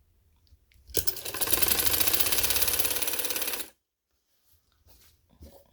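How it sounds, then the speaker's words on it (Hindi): A sewing machine stitches the neckline of a kameez, running in one rapid, even mechanical rattle for about three seconds after a few soft handling sounds, then stopping and leaving near silence with faint movement. "यहाँ से मशीन लेनी है और इसको थोड़ा पक्का कर लेना है।"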